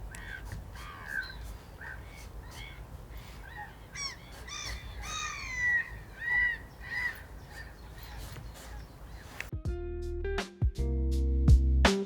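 A flock of geese honks and calls repeatedly in a noisy overlapping chorus outdoors in spring, followed by a sudden louder rumbling jumble at the end.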